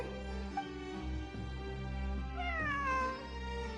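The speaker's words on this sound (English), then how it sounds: "A cat? I think there was one earlier, too." In-game cat meowing in a continuous, drawn-out, close call with a rising wavering tone, heard alone over a low steady background hum.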